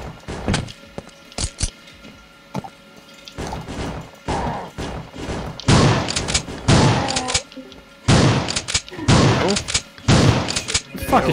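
Gunfire in a multiplayer shooter game session: bursts of loud, sharp shots and crashing impacts come in irregular clusters, louder toward the end, with a voice talking between volleys.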